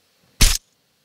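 A single sharp, punchy click with a heavy low-end thump, distorted with boosted bass, short and isolated against silence, a sound effect for a hammer's elemental blast in the game Dauntless.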